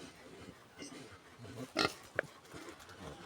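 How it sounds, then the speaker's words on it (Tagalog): Pigs about 75 days old are kept as livestock in 44-degree heat. A couple of short, close grunts stand out over a steady rough background of breathing and stirring. "Update po sa aming alagang baboy."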